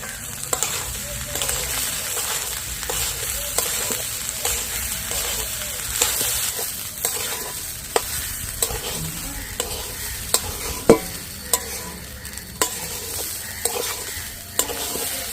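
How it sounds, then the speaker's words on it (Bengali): Rice and lentils fry in spiced oil in a pan, a continuous soft sizzle broken by repeated sharp scrapes and taps as they are stirred, close and steady with no talking. "চাল আর ডালটা একটু ভালো করে ভেজে নেব কিছুক্ষণ সময় ধরে"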